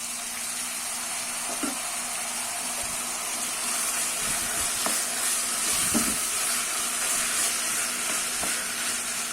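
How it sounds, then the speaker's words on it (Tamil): Ground paste sautéing in a pan for a millet pulao, a steady close hiss and sizzle with occasional soft stirring knocks, no talking. "இது பச்சை வாசனை போக ஒரு 2 நிமிஷம் வதக்கலாம்."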